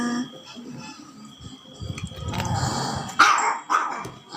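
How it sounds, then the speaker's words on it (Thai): A dog barks and growls nearby in a home setting, several short rough barks rising toward the end, with a voice briefly heard. "เอ้ยเห่าอะไร"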